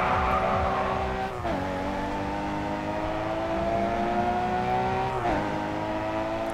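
A small drift car in the racing video game GRID 2, its engine droning steadily at high revs with two brief gear-shift dips, up close and loud, with no talking.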